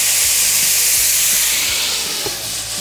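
Cognac splashed over a hot rabbit galantine in a covered pan gives a loud, steady hiss of steam and sizzle that carries on without a break and eases slightly toward the end.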